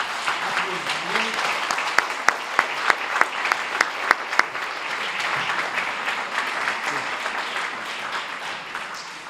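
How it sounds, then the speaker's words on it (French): Audience at a French Alzheimer's awareness day ceremony breaking into sustained applause, a dense steady wash of clapping with a run of sharper individual claps near the start and voices murmuring underneath. "Je pense qu'on peut applaudir"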